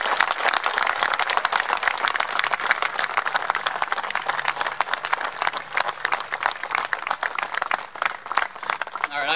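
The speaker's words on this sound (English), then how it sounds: "please join me in a round of applause welcoming him" Crowd at a Memorial Day gathering claps in welcome for a veteran, a sustained round of dense outdoor applause with scattered voices underneath.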